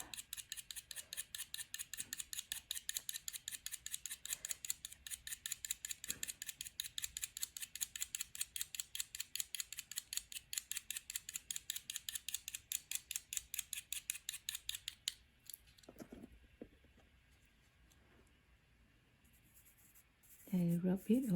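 Pastel scraped on paper in rapid, even strokes, a crisp rhythmic scratching that runs for several seconds, then a pause with faint handling noise and a brief final scrape.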